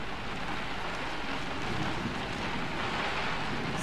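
Steady rain hisses across an outdoor scene in the video game Generation Zero, a dense, even wash of falling drops with a faint low rumble underneath, continuous and unbroken for the whole stretch with no voices.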